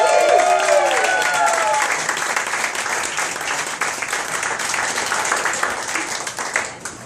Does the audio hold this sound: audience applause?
yes